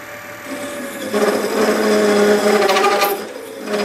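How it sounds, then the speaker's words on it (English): A sharpened gouge hogs material out of a wooden hammer handle with a steady, close, scraping rasp that swells in the middle and carries on without any voices. "we really hog out some material with the gouge"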